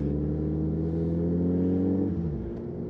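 Superbike engines, a group that includes a Hayabusa, two Terrors, a Sixer and two 900s, idle and rev together in a deep steady rumble, with one engine dropping off near the end.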